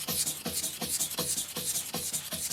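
A knife blade is stroked back and forth over a vitrified diamond whetstone in a steady series of raspy rubbing passes, about two per second, close and fairly loud with no voices.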